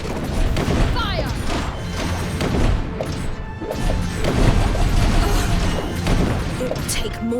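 Rapid volleys of gunfire and crashing impacts in The DioField Chronicle video game burst repeatedly over loud battle noise, with dense, overlapping blasts filling the scene and a voice shouting amid the clamor.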